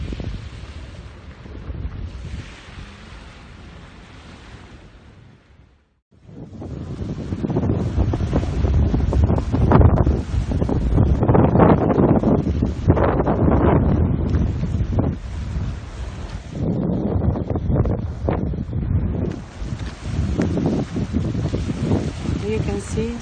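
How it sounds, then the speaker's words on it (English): Strong wind buffeting the microphone outdoors in Siberia, a loud, continuous roar with gusts that drops off briefly for a moment and then returns with full force for the rest of the time. "So windy today."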